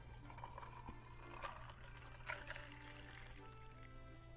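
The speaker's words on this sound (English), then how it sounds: "Now we're gonna be pouring our sangria." Sangria being poured into a glass for a Mediterranean cocktail, a soft, quiet liquid stream running steadily for a few seconds over a low background hum.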